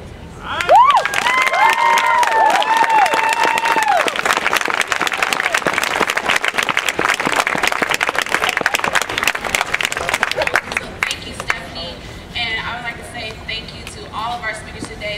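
An outdoor rally crowd against racism bursts into sustained applause and cheering after a speech, with dense clapping, whoops and voices shouting, loud and continuous before tapering off.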